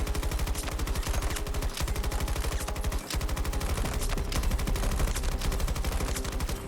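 Sustained automatic fire from the LCMG light machine gun in Battlefield 2042, a loud, dense rattle of rapid shots running almost unbroken, with only a couple of momentary gaps in the stream.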